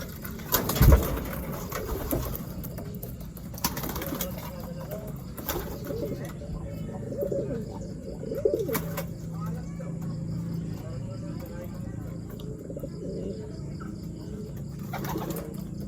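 Racing pigeons in a loft coo softly in low, repeated murmurs, with occasional wing flaps and a sharp knock near the start, while someone talks over them.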